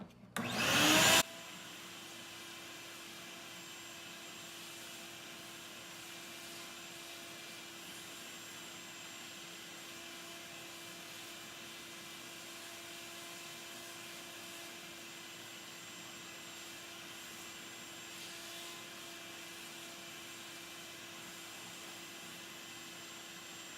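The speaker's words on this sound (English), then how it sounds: "Usually the best thing to do once you have this in the drum is to continue to vacuum around the beans." A steady, even vacuum hiss runs for about twenty seconds as chaff is sucked out of the drum of a Behmor 1600 Plus coffee roaster, after a short louder burst at the start.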